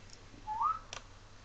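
A single short rising whistle from a person, clear and close, followed by a faint click, over quiet background.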